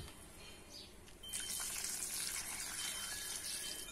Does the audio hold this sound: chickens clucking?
no